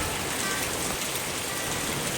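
Steady, dense wind-driven rain hisses evenly throughout, a constant wash of falling water with no pauses, behind a house.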